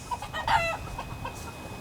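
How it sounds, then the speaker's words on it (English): Chickens clucking inside a coop, a few short, close clucks and squawks rising over quiet background noise, with no talk. "The chickens are pretty anxious to come out."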